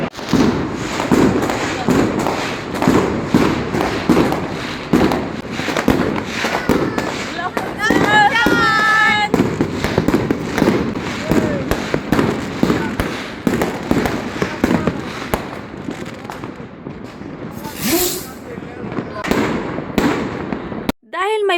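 Dense, rapid crackling and popping of New Year fireworks exploding nonstop, loud and close, with whistling rockets and voices in the background.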